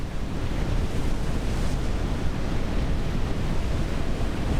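In the NAUTIS ship simulator game, a pilot boat pounds through the sea near a Hong Kong container terminal, giving a loud, unbroken roar of rushing water and wind with no voices over it.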